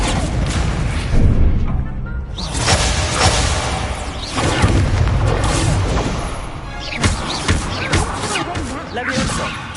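Fire spells cast in Hogwarts Legacy during combat, with bursts of whooshing flame, crashes and thuds in a dense, loud game mix, while a voice talks over the action.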